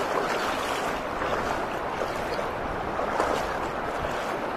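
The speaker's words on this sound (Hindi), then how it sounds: "कितना तेज पानी है।" Fast-flowing water of the Narmada river, a loud, dense, continuous rushing roar with no break.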